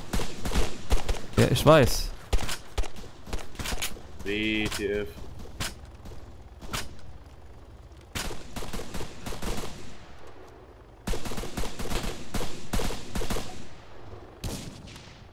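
Gunfire in a German multiplayer shooter match, with a dense volley of rapid shots early on and scattered single cracks and bursts later, heard under excited chatter from players.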